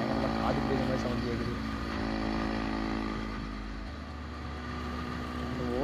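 Steady engine drone of a motorcycle fitted with an aftermarket exhaust, loud and continuous with a slight dip midway, while a person talks over it throughout.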